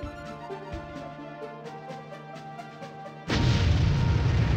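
A TNT charge blows up in the Army Men: Sarge's Heroes video game, a sudden loud burst of roaring blast noise that follows a quieter stretch of game music and keeps rumbling to the end.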